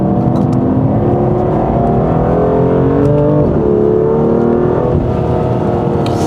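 A 2019 BMW F87 M2 Competition engine revs steadily and loudly in sport mode, its pitch climbing and dipping as the revs rise, with continuous mechanical whine and no voices.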